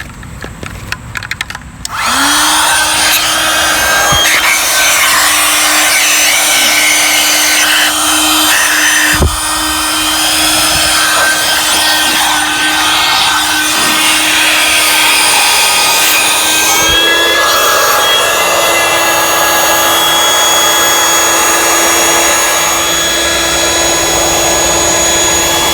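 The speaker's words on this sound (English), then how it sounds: "We're going to go ahead and use this pump here, even though it is an electric pump" An electric pump inflates a Lidl Crivit two-person inflatable kayak with a loud, steady motor drone and whine. The sound runs without a break for about 25 seconds, with a slight shift in tone partway through.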